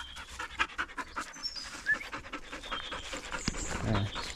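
A dog pants steadily outdoors during a walk, quick rhythmic breaths close to the listener over faint background noise, with no talking.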